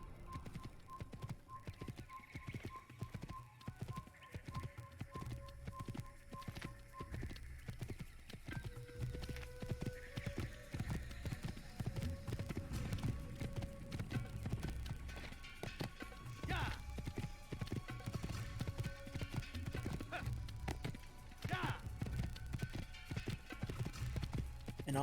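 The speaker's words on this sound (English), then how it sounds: "Keep pressing E to mount on the horse." Horse hooves galloping in the video game Assassin's Creed, a fast continuous clip-clop with an occasional whinny and faint whistled tones over quiet game ambience.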